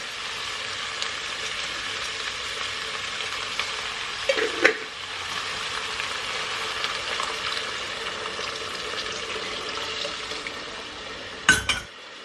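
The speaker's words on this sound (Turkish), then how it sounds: "Azıcık da arpa şehriye koyacağım." Orzo stirred into a sizzling pot, a steady frying hiss with scattered scrapes and a couple of sharp metallic clinks of a utensil against the pot, no talk.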